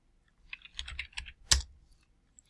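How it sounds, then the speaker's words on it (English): Code is typed on a computer keyboard in a quiet room, producing a short run of close, light key clicks that ends in one sharper, louder keystroke, then falls quiet. "So I'll just type in the code first"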